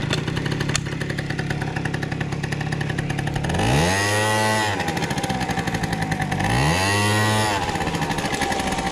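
An Aprilia SR50 scooter engine, running on three front variator rollers with a standard belt, idles in a buzzing putter, then revs up hard twice in rising and falling surges, close and loud.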